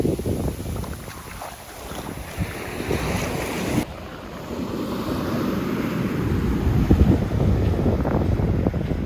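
Seawater waves wash onto a beach at La Mamola, a steady surf rush mixed with heavy gusts of wind buffeting the microphone, loud and close throughout.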